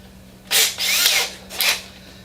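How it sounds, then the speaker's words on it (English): A power drill whirs in three short bursts, the middle one longest, with brief pauses between, close and fairly loud, drilling a pilot hole to install a steering system on a Boston Whaler boat. "I'm going to drill a pilot hole"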